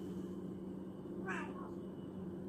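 A cat gives a single short meow at middle distance, faint against a steady low background hum.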